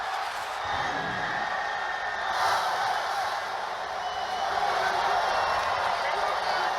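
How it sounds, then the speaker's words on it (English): A stadium crowd at a football game cheers in a steady, dense roar that stays loud from start to finish, with a commentator talking over it. "Listen to the people cheering."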